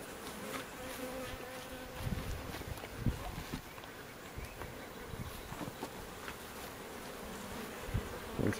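Honey bees buzz in a steady, close drone during a quick hive inspection with burr comb and a pollen patty, with soft handling knocks and bumps scattered throughout and no talking.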